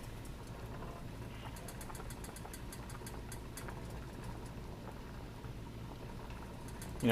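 A pot of water with macaroni boils steadily, giving a constant low bubbling rumble with faint crackles throughout, alone without talk.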